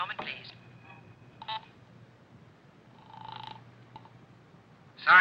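Telephone dialing in a pay booth comes as a few short separate tone bursts over a low steady hum, with quiet gaps between them and a louder burst at the very end.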